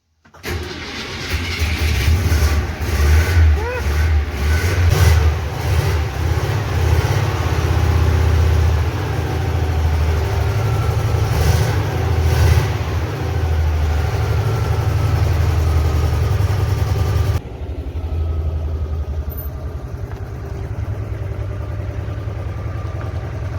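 A vintage Zaporozhets car cranks and fires up, then settles into a loud, steady idle. The engine note drops to a quieter rumble near the end.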